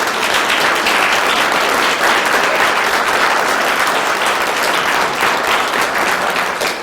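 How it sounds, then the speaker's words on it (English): A crowd at a heritage variety night gives the singer a steady round of applause, dense and loud throughout with no talking over it. "Let's give him a round of applause for coming here today."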